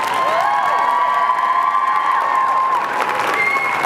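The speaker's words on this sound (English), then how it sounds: "I invite you, the members of the graduating classes, to reciprocate by applauding your family, friends, faculty, and staff" Graduates at a university convocation ceremony applaud in a large hall. A dense, sustained wash of clapping fills the space, mixed with cheers and high whoops, steady and loud throughout.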